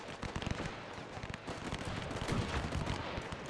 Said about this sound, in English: it is this Italian machine gun that kind of breaks it. Just because the fire rate is too much when there's so much fire going on